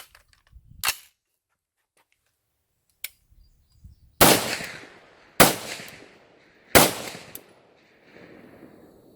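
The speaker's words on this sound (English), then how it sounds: "So the first couple shots are going to be a little bit smoky." An AR-15 rifle fires after a quick field cleaning: a few isolated sharp shots spaced several seconds apart, loud and close with short outdoor echoes, plus faint clicks between them.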